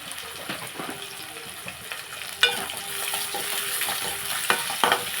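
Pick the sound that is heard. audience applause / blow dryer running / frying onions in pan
frying onions in pan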